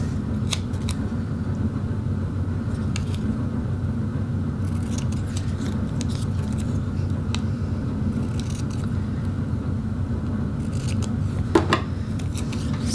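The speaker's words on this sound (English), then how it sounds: "this is where I'm gonna use the scissors and just trim the edges off nicely" Scissors trim the edges of tape on watercolour paper, giving a series of short, crisp snips scattered across the stretch over a constant low background hum.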